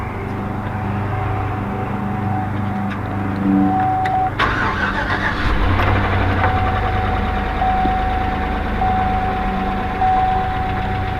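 A gasoline car engine, run after diesel fuel was put in it, cranks and catches partway through, then settles into a steady idle, with a thin whine over the rumble and no talking.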